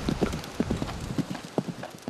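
Horse hooves clip-clop in a quick, uneven rhythm as riders train for horseback archery at a mountain practice ground, clear and fairly close, with faint background voices.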